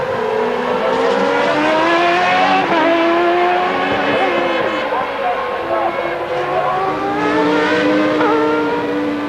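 Formula One cars from the 1995 season race past in a high, continuous engine scream with rising and falling pitch as they shift and pass, loud and sustained, with a commentator speaking beneath.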